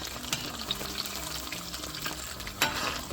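Chili chicken frying in oil as it is flipped and tossed, a soft steady sizzle with a few scraping clicks and a sharper clatter near the end, quiet and close.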